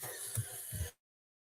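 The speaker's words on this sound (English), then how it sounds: "got a bit of a cough coming along, I think" A couple of muffled coughs close to the microphone over a faint hiss, followed by sudden silence.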